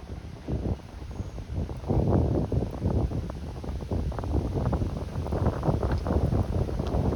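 Wind gusts buffet the microphone outdoors on Toronto Islands along Lakeshore Avenue near Centre Island and Hanlan's Point, a steady close rushing roar with irregular bursts, no talk.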